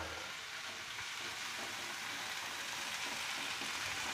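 Chopped onions frying in a pan in a home kitchen, browning with a steady, even sizzle that hisses continuously and fairly softly, close up, with no talk.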